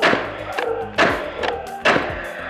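A Paslode TrimMaster-Li 16-gauge cordless straight bradder drives brads with a few sharp, loud thwacking shots, each a sudden close crack that fades quickly between strikes.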